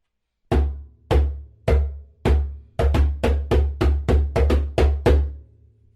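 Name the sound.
djembe bass tones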